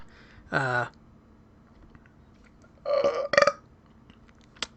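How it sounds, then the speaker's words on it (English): Loud, close belching from a game character: a drawn-out burp, a pause, then two more burps in quick succession, with a faint click near the end. "now I'm the one belching"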